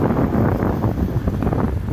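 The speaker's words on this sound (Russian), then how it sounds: "Звук машин, ветер." Wind buffets a Xiaomi 14 Pro smartphone's microphone outdoors beside passing cars, making a loud, steady, rumbling roar with gusty low-end pulses and no voices.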